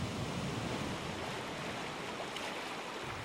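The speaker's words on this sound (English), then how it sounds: "River Mill spills water over the dam during high flows" Floodwater of the Clackamas River pours over the River Mill dam during high February flows, a steady loud broadband roar of rushing, spilling water with no break and no voices.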